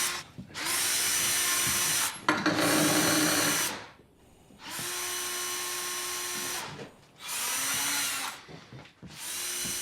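On a TV show set, a power drill runs in several loud bursts separated by short pauses, whining at a steady pitch with a brief stutter between runs.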